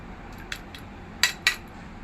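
Jaggery lumps being stirred and crushed in a pot: a few light metallic clinks of a spoon against the vessel, the last two sharper and louder, over a quiet background.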